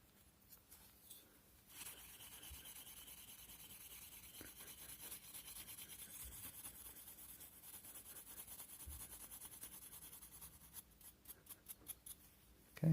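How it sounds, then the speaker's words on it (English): Steady, continuous rubbing and polishing on an adjustable Bisley GunTuff recoil pad fitted to a Weihrauch rifle, working out scratches, close and fairly quiet, with scattered brief scrapes at the start and finish. "They're not digging in, they're polishing."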